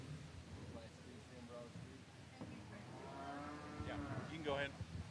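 Cattle low and moo in a barn at the 2023 San Antonio Livestock Show, where breeding heifers are being shown; the calls swell in the second half over a steady crowded-barn murmur.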